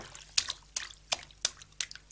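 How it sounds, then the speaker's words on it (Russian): Water splashing and dripping as a boy swims in a lake, heard as five crisp, evenly spaced splashes in a steady rhythm over a quiet background. "Разделся Витька, прыгнул в воду и поплыл."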